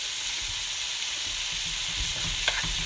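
Meat sizzles steadily in a pan with onions, a dense close frying hiss, with a few soft stirring scrapes near the end.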